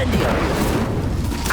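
Magic spell blasts explode in Hogwarts Legacy gameplay on Nintendo Switch, a loud booming burst with crackling rumble that lasts the whole short moment.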